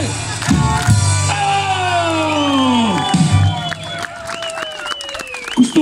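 A band concert crowd at a pumpkin fair cheers and shouts with raised hands, with children's voices and whoops, loud and close, mixed with sustained tonal notes and a sliding pitch, and scattered claps toward the end.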